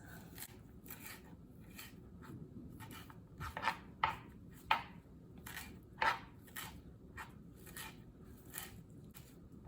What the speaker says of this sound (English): All I need to do is just chopping the leaves.